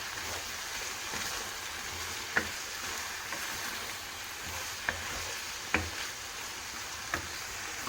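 Steady frying sizzle in a pan with a few sharp clinks of a utensil against the pan as tomatoes are stirred in.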